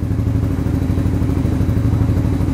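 Motorcycle exhaust fitted with a honeycomb dB killer in a smoke muffler, idling loud and close with a steady rapid pulsing throb and a slight rattle, with no talking.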